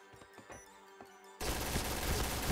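Several sharp, isolated video game gunshots ring out, then a sudden, dense burst of continuous rapid gunfire fills the rest of the clip, loud and sustained.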